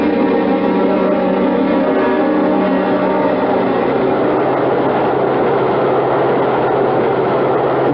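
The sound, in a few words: subway train in radio drama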